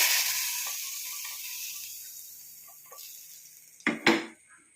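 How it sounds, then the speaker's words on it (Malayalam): Liquid is poured into a hot mustard-seed and curry-leaf tempering for a Kerala tuna curry with kudampuli and coconut. A bright, loud sizzle fades steadily, followed by a couple of sharp utensil clanks against the pan. "നമുക്ക് ആ കടുക് വറുത്തതിലേക്ക് ഒഴിച്ച് കൊടുക്കാം."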